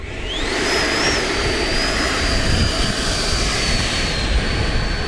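An XFLY Sirius 80mm RC jet model taking off, its ducted-fan engine a loud, steady whine with a rising high pitch held throughout, close and alone.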